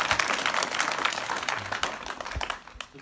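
An audience cheers and claps for their teachers at a charity fundraising event, a dense close burst of applause and shouts that fades slightly at the end.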